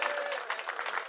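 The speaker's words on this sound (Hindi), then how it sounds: "ताली बजाओ।" A live audience at a Hindi comic poetry recital breaks into brief, dense applause, with many hands clapping at once at a moderate level.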